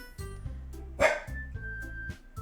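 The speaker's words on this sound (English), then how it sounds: "Sorry about my dog." A streamer's dog lets out one sharp bark midway, loud and close, over steady looping game music.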